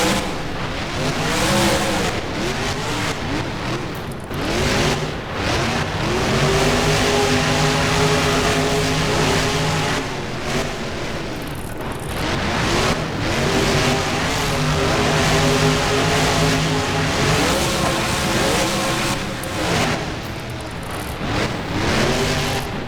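Monster trucks racing in the video game BeamNG Drive around Lincoln Financial Field, giving a continuous loud engine roar with rising and falling revs and gear shifts that lasts throughout, with no voices.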